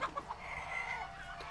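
Chickens clucking in the stealth game Shadow Tactics: Blades of the Shogun, a few short clucks at the start giving way to a steady fowl chatter, close and moderately loud, with no talk over it.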